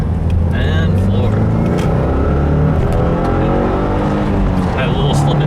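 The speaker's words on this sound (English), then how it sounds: "I'm gonna start with my infamous second gear pull. Cops around, clear, and floor." 2015 Subaru WRX with a Maperformance stage 1 tune on 93 octane, accelerating hard in second gear on a rainy road: a loud, close engine roar climbs steadily in pitch, with a voice speaking over it.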